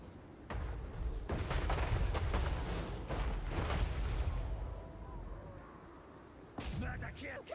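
Catapults firing in Total War: Warhammer III, a run of dull booming impacts and rumbling bursts through the middle, then a sharp crack near the end.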